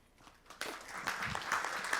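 Brief audience applause for a speaker after a technical talk, starting abruptly after a quiet moment and continuing as fairly faint, distant clapping across the room.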